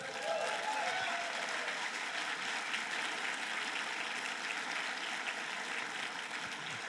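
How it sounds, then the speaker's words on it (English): A conference audience at a game developers' event opening gives itself a sustained round of applause, a dense, even wash of many hands clapping that holds steady throughout at moderate distance. "please give yourselves a round of applause,"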